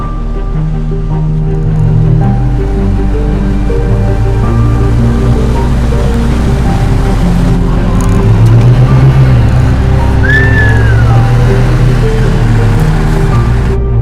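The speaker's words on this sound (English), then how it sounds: "this car is just leaping through the gears nice and easily" A 2024 Mazda CX-90 with an inline-six engine accelerating through its gears, heard as a steady low engine drone with road and tyre noise and small rises as it shifts, loud and close throughout.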